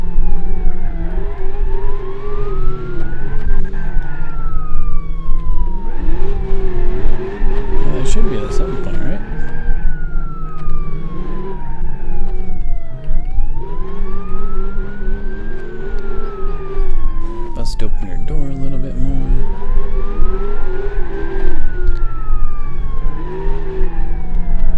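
Police sirens on crashed cars in a BeamNG demolition derby wail loudly in slow rising-and-falling cycles, with engine noise and occasional crunching impacts underneath.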